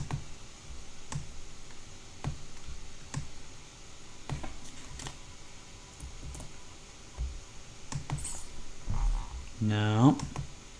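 Scattered keystrokes click on a computer keyboard at an uneven pace over a steady background hum, with a brief tonal sound rising near the end.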